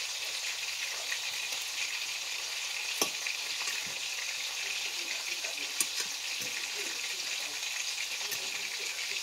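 Eggplant salad with vegetables and chicken breast being stirred in a pan at home, a steady close sizzle with scattered scraping clicks of the utensil throughout.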